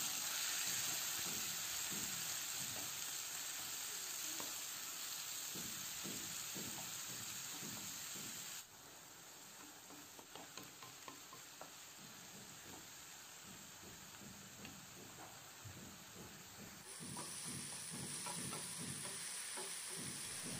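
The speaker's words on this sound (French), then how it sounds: "j'ai mis ma poêle sur feu élevé. J'ajoute un peu d'huile végétale. Puis l'oignon avec la courge coupée finement." Onion and finely cut squash fry in vegetable oil in a pan over high heat, giving a steady, close sizzling hiss with scraping stirs throughout and no talking.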